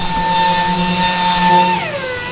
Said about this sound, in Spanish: Lijando.